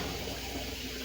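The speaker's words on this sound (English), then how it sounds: "I got warm water going in here" Warm water pours from a tap into a home canner holding canning jars, a steady close rushing stream with no breaks and no talking.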